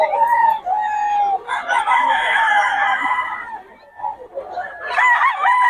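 A Sweater bloodline gamefowl rooster crows nearby, a loud drawn-out call followed by softer clucking and a second crow starting toward the end.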